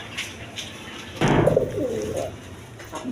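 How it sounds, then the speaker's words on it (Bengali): A pair of Rasgolla pigeons coo in a loft, a faint low coo first and then a louder, rolling coo swelling up close and lasting about two seconds. "দর্শকবিন্দু এইখানে এক পেয়ার কবুতর আছে, দেখেন রাসগোল্লা কবুতর"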